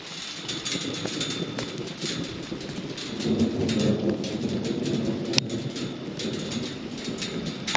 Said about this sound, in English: Bunch of thunder. It's been some big thunder.